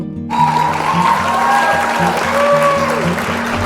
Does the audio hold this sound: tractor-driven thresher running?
no